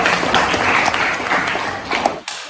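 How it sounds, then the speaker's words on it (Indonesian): Students in a classroom clap for a classmate named Jayanti, a short burst of dense, fairly loud applause lasting about two seconds before cutting off. "tepuk tangan untuk Jayanti tepat sekali ya"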